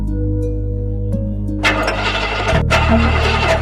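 A car engine cranks loudly with a steady grinding whir, then catches briefly into a rough, unsteady roar with a short dropout before sputtering on, all close and without talk.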